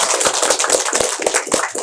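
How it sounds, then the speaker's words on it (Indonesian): A small studio crowd claps together at a steady, quick rhythm, the sharp hand claps close and evenly spaced with no voices over them. "tepuk tangan dulu dong"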